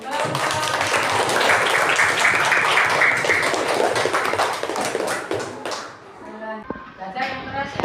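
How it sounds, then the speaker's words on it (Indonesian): A classroom of students claps together in a dense burst of applause lasting several seconds, then fades into scattered taps, shuffling and children's voices. "Ya, beri tepuk tangan"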